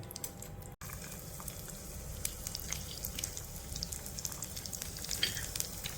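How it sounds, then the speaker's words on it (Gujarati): Finely chopped garlic hits hot ghee with cumin for dal tadka, setting off a soft, steady sizzle with small popping spatters that runs on after a brief cut near the start. "બારીક કટિંગ કરેલું હવે આની અંદર આપણે લસણ એડ કરી નાખીશું"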